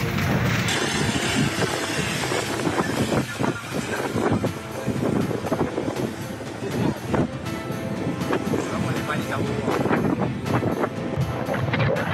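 Strong, gusting wind roars continuously and loudly across a warehouse fire at a chemical storage site in an industrial area, buffeting the microphone with rough, dense rumble and no clear pauses.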